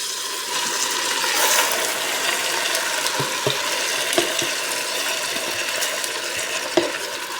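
Squid for lemongrass squid adobo sizzles steadily in a hot pan, a continuous loud frying hiss broken by a few sharp clicks of stirring, with no voices.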